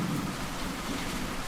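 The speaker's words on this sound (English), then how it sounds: "And now a perfect tornado burst upon me." A violent storm with steady, heavy rain and rolling thunder, a dense roar that fills the whole stretch evenly with low rumbling underneath and no voices.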